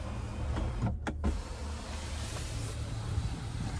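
Power-folding third-row seat in a 2025 GMC Yukon Denali, its electric motor giving a steady, fairly quiet whir that runs through the whole stretch with a short break near the start, with no talking.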